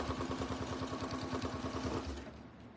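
A sewing machine stitches tape onto vinyl at a 2.4 stitch length, its needle clattering in a fast, regular rhythm close up, then slowing toward the end.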